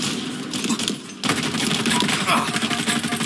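Rapid automatic gunfire bursts crackle in Halo Infinite multiplayer, loud and close, following a brief quieter moment with fainter shots, continuing in dense rattling volleys to the end.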